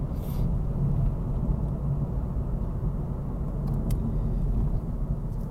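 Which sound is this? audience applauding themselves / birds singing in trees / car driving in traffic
car driving in traffic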